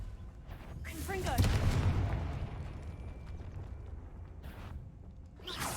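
A Confringo blasting spell goes off in the Hogwarts Legacy video game, a loud broadband burst swelling around the second mark and rumbling on under a wash of game noise and effects.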